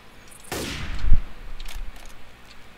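Gunfire in the zombie shooter Left 4 Dead 2, a single sharp shot followed by a second heavier bang, loud and close against quiet game ambience with no talk.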